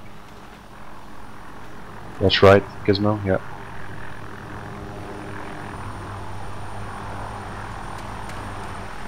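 Helicopter approaching during a 40 Commando Royal Marines raid exercise, a steady low rotor drone running throughout, with a brief burst of voices talking over it.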